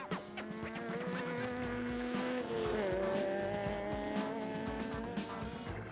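A Toyota Hilux roars past during the RFS 450 off-road race, its engine rising and falling in pitch with a gear change and tyre noise, loud and close, with no one talking.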